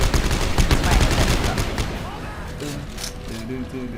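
Rapid bursts of gunfire in the co-op sci-fi horror shooter Dead Space 3, dense and loud at first, then thinning out under lively player chatter and game sounds.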